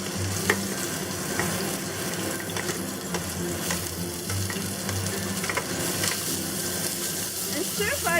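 Onions and garlic stir-fry in hot oil in a freshly rinsed pan, giving a loud, continuous close sizzle with scattered clinks and scrapes of stirring throughout.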